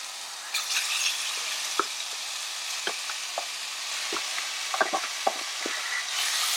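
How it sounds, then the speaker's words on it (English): Meat browning in a pan for a stew, a steady close sizzle with scattered clinks and scrapes of a utensil stirring, no talking. "Just browning off the meat so that I can add it to the veggies into it."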